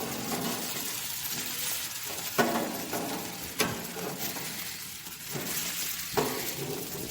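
Homemade hamburger patties with bacon mixed in sizzle loudly in a pan after flipping, a steady crackling hiss broken by a few sharp clinks and scrapes of a spatula.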